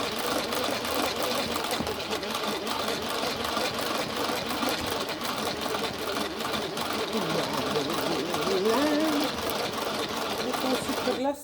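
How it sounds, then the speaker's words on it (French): A Speedy Chef electric mixer whips cold whole cream in a dry bowl, its motor whirring steadily and loudly from start to finish while people talk over it. "Donc je vais la monter dans un Speedy Chef sec."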